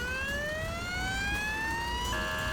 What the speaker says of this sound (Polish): Jedzie, jedzie! Jedzie i druga karetka.